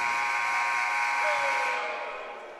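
The arena buzzer sounds to end the third quarter of a basketball game between the Indiana Lyons and the St. Louis Spirits. It is a loud, steady electronic blare that holds for about two seconds before fading.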